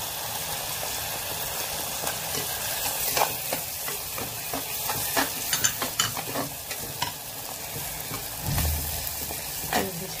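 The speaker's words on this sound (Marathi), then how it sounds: "हे भाजते चांगलं, हे फ्राय व्हायला लागले. खोबरं घालूया." Grated coconut sizzles and crackles in a hot pan while being stirred for Kolhapuri misal, with steady frying hiss and scraping stir strokes close by and no talking.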